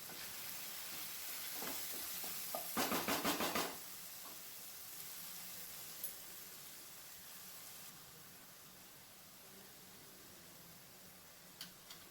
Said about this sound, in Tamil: இப்போ இந்த வெங்காயம் தக்காளி இதெல்லாம் எண்ணெயில் நல்லா வதங்கட்டும்.